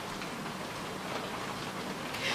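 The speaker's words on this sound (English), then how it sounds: "it's absolutely bucketing down" Heavy rain pouring down outdoors, a dense continuous hiss of drops with faint ticking, steady and fairly soft, with no voices.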